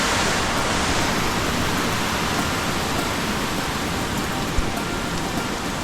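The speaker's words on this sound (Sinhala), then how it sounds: "ඔත්ත වතුර පාරක් තියෙන්නේ." A fast-flowing stream of water rushes without a break, a loud, dense, even roar close at hand with one small knock near the end.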